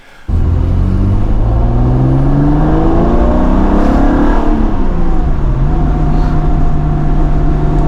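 A Porsche 914/6 flat-six engine, with its engine layout reversed, revs up and back down close by, loud and continuous with rising and falling tones, no voices.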